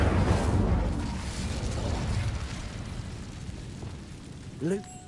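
A fire spell bursts in Hogwarts Legacy with a rumbling, roaring whoosh that starts strong and slowly fades, followed near the end by a short rising magical swish.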